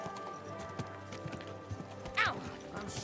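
Steady clip-clop of horse hooves in the video game Kingdom Come: Deliverance II, with a brief whinny near the end, under a faint busy background.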